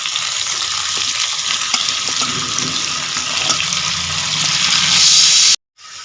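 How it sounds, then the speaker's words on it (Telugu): Chopped onions sizzle in hot oil with popped mustard seeds, a steady bright hiss of frying with faint stirring clicks, swelling louder before a sudden break near the end. "ఆవాలు చిటపట్ట అన్న తర్వాత మనం ఆనియన్స్ వేస్తున్నాం"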